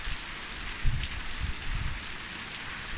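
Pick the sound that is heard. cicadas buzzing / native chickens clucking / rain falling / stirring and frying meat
rain falling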